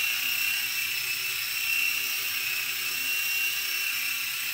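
A small Blade mCX2 four-channel RC helicopter flying indoors, giving a steady, high-pitched electric whine with a constant buzzing hum that holds at an even level throughout.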